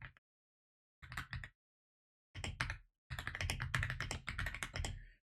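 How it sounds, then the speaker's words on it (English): A computer keyboard clatters nearby in quick bursts of rapid typing, separated by short silences, with the longest flurry of keystrokes near the end. "as you can hear my keyboard"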